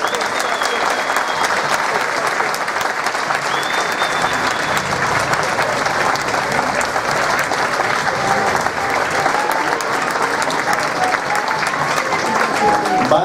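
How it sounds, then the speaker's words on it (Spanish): Sustained audience applause for the Banda Municipal de Música de Los Llanos de Aridane at a Santa Cecilia tribute ceremony in El Paso, a steady wash of many clapping hands with faint talk underneath. "Un fuerte aplauso para ellos."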